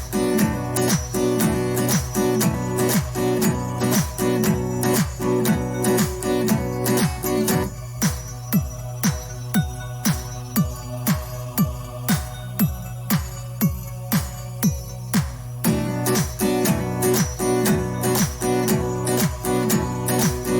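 A song plays as a steady rhythmic piece with regular repeating beats and sustained tonal layers, a lighter, thinner middle section, then a fuller return, continuous and fairly loud throughout.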